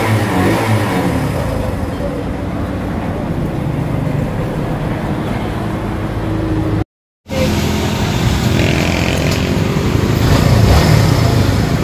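A motorcycle engine idles after a carburetor repair, a loud, steady, close-up running drone that continues throughout, broken only by a brief cut partway through.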